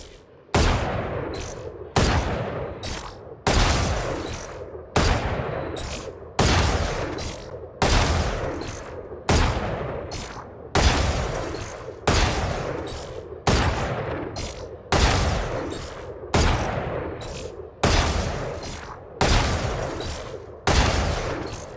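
Valorant aim-training gunshots ring out in rapid bursts, loud and close, about a dozen evenly spaced volleys with brief gaps between them and no talk.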